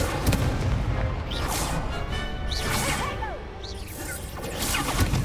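Magical whooshes and crackling fire bursts from an Incendio spell in a Hogwarts Legacy wand duel, several swishing blasts and impacts layered over dense game combat noise.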